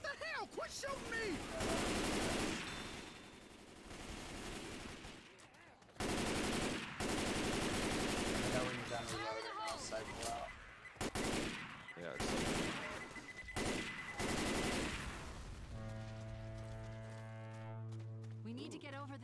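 Bursts of automatic gunfire in Left 4 Dead 2 erupt in several loud, choppy volleys separated by short pauses, with a voice talking between and over the shooting and a tonal game sound near the end.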